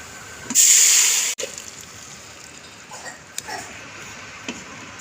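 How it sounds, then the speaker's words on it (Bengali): Lentils (dal) poured into a pan of reddened fried onions, a loud sudden hiss of sizzling for nearly a second that cuts off, followed by quieter bubbling and a few soft pops. "এবার আমি ডালটা ঢেলে দেব।"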